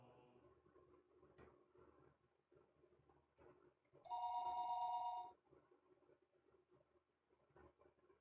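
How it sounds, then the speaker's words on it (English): A telephone rings for a late night call, one clear electronic ring lasting about a second amid faint clicks and a quiet background. "Late night phone call."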